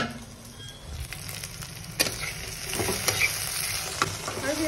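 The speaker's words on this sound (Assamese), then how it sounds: "ইফালে ভেন্দি ভাজিখিনি বহি দিছোৱে" Okra fries in a pan on a home stove, a steady sizzle with occasional stirring clatters and crackles building louder toward the end, no talking over it.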